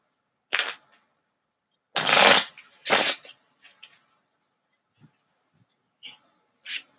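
Tarot cards are shuffled up close for a reading, giving several short, crisp riffling bursts separated by quiet pauses, with a few softer taps and flicks between them.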